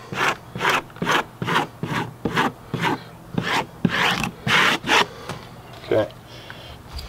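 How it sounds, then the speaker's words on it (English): A squeegee presses a vinyl decal onto an RV slide-out in about a dozen quick, evenly spaced rubbing swipes, close and crisp, each a short scraping burst with brief gaps between. "I'm going to go ahead and squeegee one more time."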